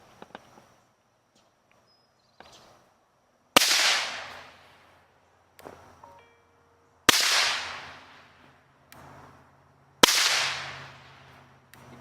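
An FN 5.7 pistol fires through a Jarvis threaded barrel with an adapter and a Rugged Obsidian suppressor. Three sharp, loud suppressed shots ring out a few seconds apart, each with a decaying tail, amid faint handling clicks.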